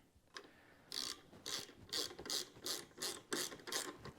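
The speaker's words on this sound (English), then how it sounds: "You just put a couple screws in that." Screws being driven into a plastic bracket on the back of a garage door opener power head: a steady run of eight quick ratcheting, grinding bursts, close and fairly loud, with no talk.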